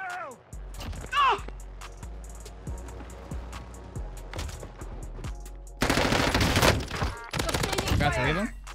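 Gunfire in Warzone: rhythmic, spaced single shots giving way to a loud, sustained burst of rapid automatic fire, then more bursts, with close, punchy impacts and brief game effects.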